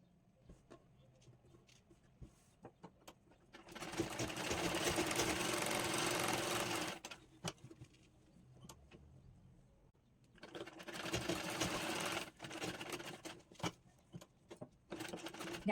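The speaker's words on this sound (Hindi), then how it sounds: "अब हमें इसके नेक को स्टिच कर लेना है।" A sewing machine stitches the neck of a blouse in two loud rattling bursts of several seconds each, separated by quieter handling clicks and pauses.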